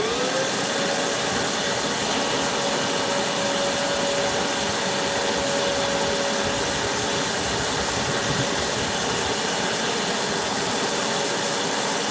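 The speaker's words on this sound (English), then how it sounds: "Might as well vacuum out the rest that's in there." A vacuum cleaner roars loud and steady while cleaning out the inside of a truck door, with a constant whine running throughout and no talk.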